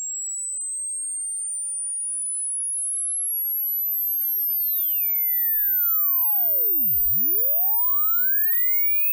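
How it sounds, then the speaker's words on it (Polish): A pure sine test tone played through an audio plugin without oversampling sweeps steadily upward, while aliased tones fold back and glide down through the audible range, dipping to a low point and rising again, heard alone. "Ta sinusoida sobie spokojnie tutaj solo."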